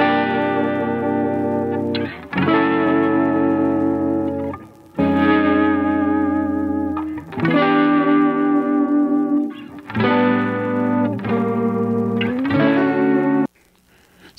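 A Gibson 335 and a Fender Strat, panned left and right in a studio session, play layered sustained electric guitar chords with effects and reverb, strummed in several phrases separated by brief pauses, with no talking.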